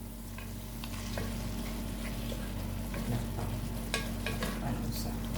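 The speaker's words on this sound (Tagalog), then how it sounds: "wow sarap magluto si darling og pansit" Pansit noodles being stirred and fried in a pan, a constant low sizzle with scattered scraping and clinks of a utensil, close by, with faint background noise and no clear talk.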